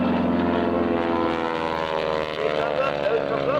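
A T-6 propeller airplane flies an aerobatic hesitation roll at an air force base open house air show, its engine a loud, continuous throbbing drone that stays close and steady throughout.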